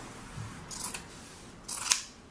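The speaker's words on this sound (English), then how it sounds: "Put your scissors into that fold and just start cutting" Scissors snipping through a folded cotton shirt, two short crisp cuts about a second apart, close and fairly quiet.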